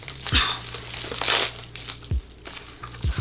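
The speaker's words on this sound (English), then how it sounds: "I'm having trouble opening this. I'm gonna have to rip it." Package wrapping is torn open by hand, with brief crinkling rips and a few sharp tearing bursts, close and moderately loud, with no talk.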